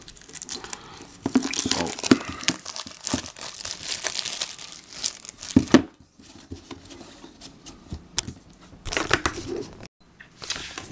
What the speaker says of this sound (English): I'm just gonna open this, remove the plastic